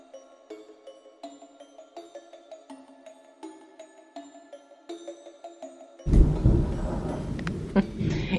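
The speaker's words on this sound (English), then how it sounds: "Can you hear the thunder?" Thunder rumbles outside during a thunderstorm, a loud broad rumble that rises suddenly and rolls on for a couple of seconds after a stretch of soft, ringing musical tones.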